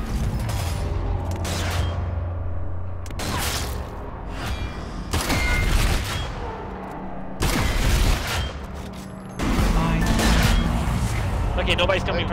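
Heavy gunfire and booming shots, shotgun blasts among them, from the zombie shooter game Zombie Army 4 arrive in loud separate bursts over a low rumbling background, with talk running over much of the action.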